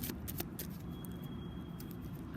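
Tarot cards are shuffled by hand in a few soft, quick riffling bursts near the start, then fade under a low, steady room hum.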